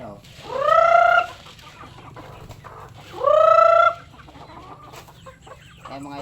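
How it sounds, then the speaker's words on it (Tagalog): Chickens at feeding time give two loud, drawn-out squawking calls a couple of seconds apart, heard close over a quiet low background murmur. "Papakain tayo ng manok mga idol."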